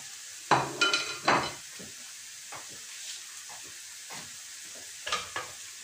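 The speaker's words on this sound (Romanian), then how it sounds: "ceapa este prăjită cu ulei de măsline și o linguriță de boia" Chopped onion fries in olive oil with a teaspoon of paprika for a traditional fasting soup, giving close, soft sizzling with a few louder stirring bursts near the start and again toward the end.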